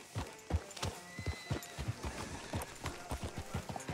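Horse hooves clip-clop in a steady uneven rhythm in Red Dead Redemption 2, close and clear, with a faint whinny under the rapid footfalls.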